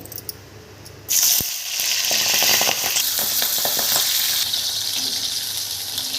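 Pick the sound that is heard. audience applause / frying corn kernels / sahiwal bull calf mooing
frying corn kernels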